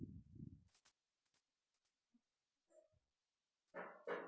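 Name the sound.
dog in video game Minecraft Bedrock Edition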